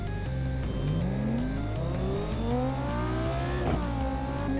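A car engine revs in BeamNG while lapping a track, the pitch climbing through the gears with a brief shift dip and tire noise, loud, close and continuous with no voices.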